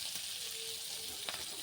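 Green chilies frying in a pan in a home kitchen beside shrimp on low gas: a steady close sizzle and crackle with a few small pops and a faint scrape near the end, no voices.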